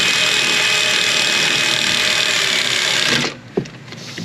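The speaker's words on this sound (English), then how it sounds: "Get the electric ratchet, make sure you're going in the correct direction." An electric ratchet drives brake bolts home with a steady, loud mechanical whir that runs for about three seconds, then stops with a short clunk and a brief tail of quieter noise.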